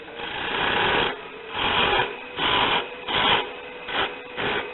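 A skew chisel taking a peeling cut on wood turning on a lathe, heard as a steady rushing hiss in five or six separate passes with brief gaps, close and fairly loud.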